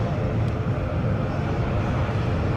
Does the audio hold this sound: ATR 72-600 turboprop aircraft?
yes